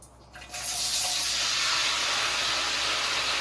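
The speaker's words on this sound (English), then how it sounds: "That's the palm oil bleaching." Palm oil bleaching in a pot for a Nigerian beef stew, a strong steady hiss that swells up after a quiet moment and holds on loudly.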